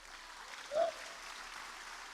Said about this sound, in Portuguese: E se eu fosse você, eu aplaudi o Senhor.